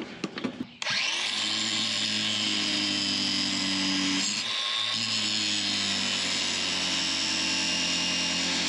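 A power tool grinds off a part of an old conveyor: after a few clanks, a loud, steady high-pitched whine starts and holds continuously, dipping briefly as the tool bogs before spinning back up.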